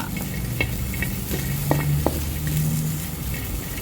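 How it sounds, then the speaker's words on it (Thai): Garlic and ingredients dry-roast in a hot pan, giving a steady crackling sizzle with soft scraping stirs and occasional clinks of a utensil, close up and without speech. "เอาลงกระทะค่ะ ใส่ลงไปเลย คั่วคั่วคั่ว"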